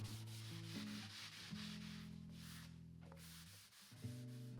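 A scouring pad rubs over charred wood in a steady, close abrasive scrubbing, while a faint tonal hum sits underneath.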